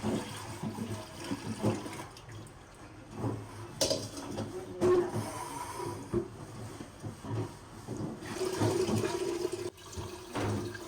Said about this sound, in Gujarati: નવા ગોળામાં પાણી ભરાવાનું શરૂ થઈ ગયું છે.